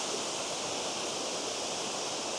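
Tianna Falls waterfall pouring steadily outdoors, a dense, even rush of falling water that stays constant and fills the whole span without pauses or voices.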